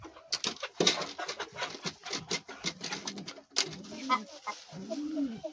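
Several pigeons, a flock of about ten pairs being fed in summer, coo in low rolling calls near at hand, mixed with scattered pecking and wing patter.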